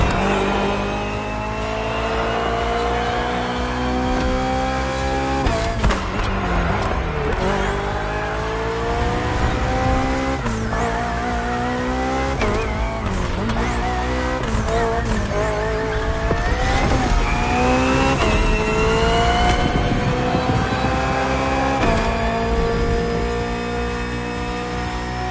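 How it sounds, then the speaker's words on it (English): A hybrid V8 BMW race car in The Crew Motorfest revs hard and climbs through the gears, with repeated rising engine sweeps and squealing tires. It stays loud and close throughout, with no talk. "The hybrid V8 will do the rest."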